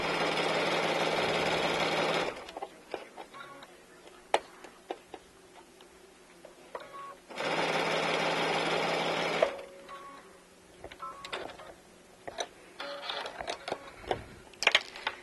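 A sewing machine fitted with a quilt-binding foot runs in two loud, steady bursts of stitching, with quieter handling clicks and taps between the runs.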